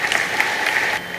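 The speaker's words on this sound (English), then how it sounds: "we should just give them a round of applause" An audience at a bank funding event claps in a short, dense burst of applause heard close by. There are no voices over it.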